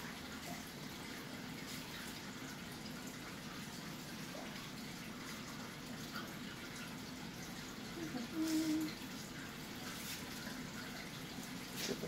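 Tap water runs steadily from a sink faucet onto paper towels being wetted, a soft continuous splashing rush with a brief louder gush near the end.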